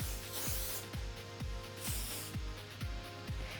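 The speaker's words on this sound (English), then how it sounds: "give it a good bit of hairspray" Hairspray misted over a finished Grecian updo, heard as a steady aerosol hiss with short rhythmic pulses repeating about twice a second.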